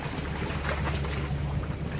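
A fishing boat engine drones steadily on the open sea, with wind buffeting the microphone and waves washing around it.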